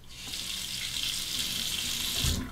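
Hot tap water runs steadily over a loaded safety razor, a continuous hissing splash close to the microphone with a brief low thump near the end.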